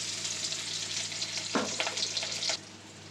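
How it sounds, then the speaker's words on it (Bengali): Chopped onion fries in oil in a wok with a steady close sizzle, broken by a few louder stirring scrapes toward the middle before the sound drops a little. "আমি কড়াইতে তেল দিয়ে দেবো, পেঁয়াজ কুচিটা দিয়ে দেবো"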